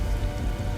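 Steady, dense rain hiss from Devil May Cry 3 fills the moment, a constant close wash of falling drops with no voices.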